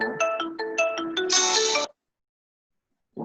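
A mobile phone ringtone plays a bright, looping electronic melody of rising notes, loud and close, then cuts off abruptly into silence before a brief sound at the very end.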